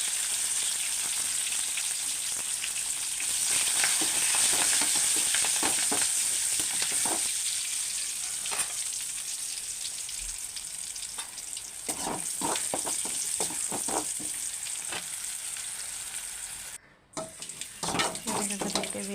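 Curry leaves and salted chillies fry in hot oil in a loud, steady sizzle with crackling pops, broken by a brief pause and some clatter near the end.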